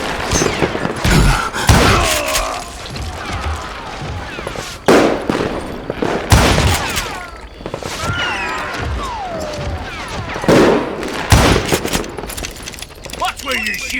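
Gunfire in the Western shooter Call of Juarez: Gunslinger: scattered loud shots and heavy thumps in bursts, separated by short pauses, with shouted voices and game effects mixed in between.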